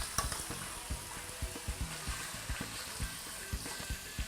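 Chicken tenders sizzling in a stock pot used as a skillet for buffalo-style chicken chili, a soft frying hiss broken by regular light taps and scrapes of a utensil against the pot.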